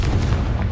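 Confringo's explosive blast in Hogwarts Legacy: a short, dense, booming burst of heavy low rumble, loud and close throughout.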